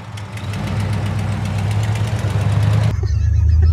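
A 1975 Dodge Ramcharger's V8 runs with a steady low rumble and a rhythmic knock, building slightly, then shifting to a rougher, louder tone near the end as it pulls away close by.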